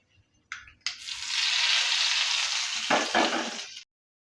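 Mustard seed and urad dal tempering poured into chutney, giving a loud burst of sizzling that holds steady for about three seconds, with a short crackle and a couple of sharp pops before it stops abruptly.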